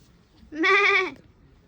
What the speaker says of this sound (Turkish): burada koyun var